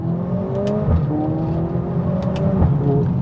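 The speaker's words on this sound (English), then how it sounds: "One of the coolest things about this car, I think, is the sound it makes" Heard from inside the cabin, the engine of a Mercedes-AMG A45 S hums steadily, its tone rising through the revs with a couple of sharp shifts along the way, loud and close, with no one speaking.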